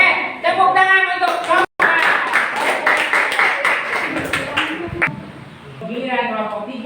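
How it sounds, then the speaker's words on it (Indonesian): Students in a classroom give a group a burst of fast clapping lasting a few seconds, mixed with chatter, while a teacher's voice is heard before it and again as it fades. "Oke, tepuk tangan untuk"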